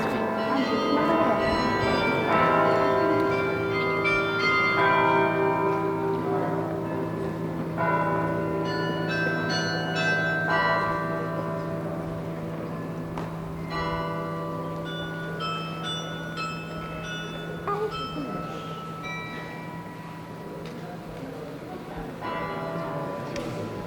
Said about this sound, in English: Look at the bells